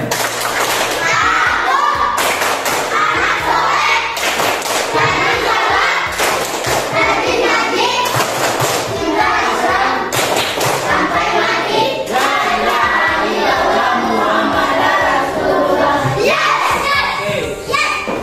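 Schoolchildren in a classroom perform the rhythmic 'tepuk anak soleh' clapping chant, loud patterned claps and thumps in bursts with young voices chanting along throughout.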